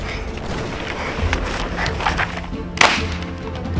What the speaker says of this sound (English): Lay down suppressive fire with the world's most unreliable 22?